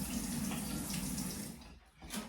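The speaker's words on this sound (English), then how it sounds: "And then just add some water." Tap water running steadily into a shaker cup for a protein shake at home, a continuous close hiss and splash that thins out near the end before briefly returning.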